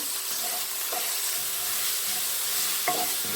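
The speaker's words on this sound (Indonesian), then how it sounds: "jahe, serai sama bawang merah. Diaduk-aduk dulu." Ginger, lemongrass and shallots being stirred in a pan: a steady close hiss of frying with a few soft scrapes of the spoon against the metal.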